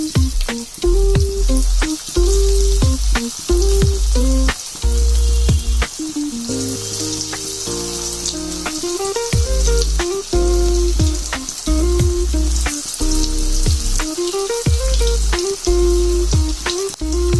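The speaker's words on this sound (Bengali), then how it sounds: "এখন পেঁয়াজগুলোকে ভেজে দেব।" Onions frying in oil for crispy cabbage and lentil fritters give a steady, close sizzle throughout, with melodic background music playing over it.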